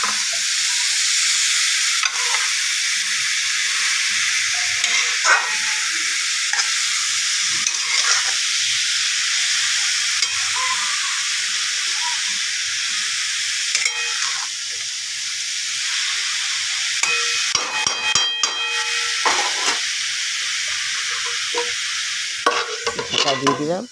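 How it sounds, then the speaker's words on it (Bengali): Raw papaya dry curry sizzles loudly and steadily in a pan while a spatula stirs and scrapes through it, producing irregular clicks and scrapes over a constant close hiss. "ভালো মতন এবার নেড়ে চেড়ে ভালো করে কষিয়ে নিয়ে"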